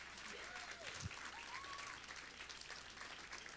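Applause at a school award ceremony, a soft, steady patter of clapping heard from a distance and continuing throughout.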